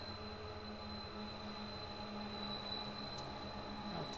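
A train passes outside an open window with a steady, faint rumble and rolling wheel noise under a thin high whine, continuous throughout.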